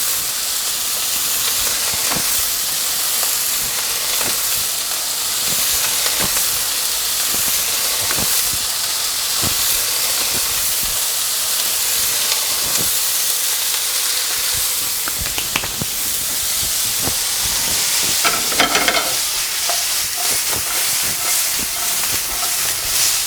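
Pumpkin ricotta gnudi go into a hot pan and throw up a loud, continuous hiss of steam, with scattered clicks and small clatters rising above it and no talking.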